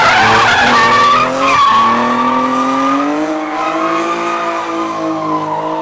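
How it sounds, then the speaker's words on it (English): A drifting car with loud, sustained tire squeal wavering in pitch over a revving engine, close and dominant for several seconds. "everyone's still in town and just drifting and having fun"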